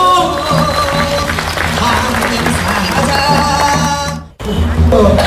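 Crowd applause at an outdoor Korean shamanic memorial rite for child abuse victims, clapping mixed with music and voices, loud and sustained, breaking off briefly near the end before resuming.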